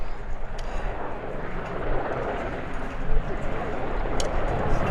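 A Westland Sea King helicopter at an air festival, its dense, steady rotor and turbine roar filling the air continuously, broad and loud with slight pulsing swells.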